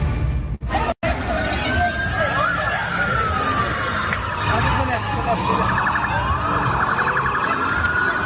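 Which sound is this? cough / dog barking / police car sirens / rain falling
police car sirens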